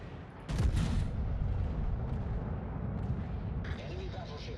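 Battleship main guns firing in a naval combat video game, a heavy booming blast followed by a sustained rumbling roar that fills the clip.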